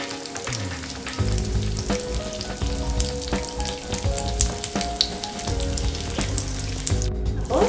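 Soya cutlets fry in hot oil on a tawa with a loud, continuous crackling sizzle, close up and without talk, with faint tonal hum beneath.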